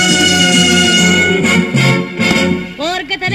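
A 1964 Real Zaragoza football anthem recording plays as sung music with sustained vocal lines over band accompaniment, fairly loud and steady throughout with a brief rising vocal flourish near the end.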